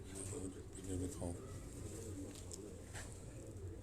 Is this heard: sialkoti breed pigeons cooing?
yes